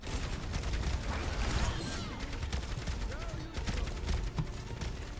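Doomfist's hand cannon firing repeatedly at Orisa in an Overwatch 2 match on the Oasis map, a steady stream of dense rapid shots amid busy battle noise, with voices partly audible underneath.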